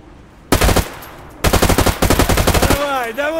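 Automatic weapon fire in Stalker GAMMA loaded with HP ammo: two loud close bursts, a short volley followed by a longer rapid string of shots, then a ringing whine as the firing stops.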